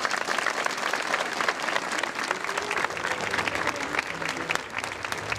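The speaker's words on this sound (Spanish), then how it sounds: "A todos ellos, nuestro aplauso." Dense, sustained applause from an audience at an anniversary ceremony for the 1902 plebiscite in Trevelin, Patagonia, with steady clapping filling the room throughout.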